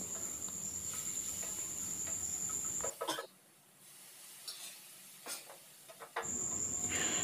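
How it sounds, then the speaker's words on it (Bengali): Onion and tomato with a pinch of salt fry in a pan, giving a steady close sizzling hiss that drops away to near quiet for a few seconds before returning strongly. "এরপর যাতে টমেটোটা ভালো করে গলে যায় বা পেঁয়াজটা, তাই একটু সামান্য নুন দিয়ে দিলাম, দিয়ে এটাকে প্রথমে খুব ভালো করে ভেজে নেব।"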